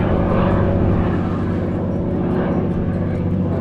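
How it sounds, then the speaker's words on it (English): A propeller airplane drones steadily overhead above a dense forest on Isle Royale, a constant loud rumbling engine hum that fills the whole stretch with no break. "we stop for plane noises here because they're so unusual"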